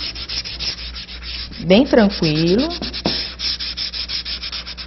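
A painted wooden keychain is sanded gently by hand, a rapid, even rubbing scratch running throughout at close range while someone speaks briefly over it.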